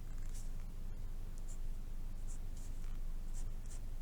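Pen drawing on paper held at a very oblique angle, a soft continuous scratchy, feathery scraping with faint tonal squeaks, close and quiet against low background hum.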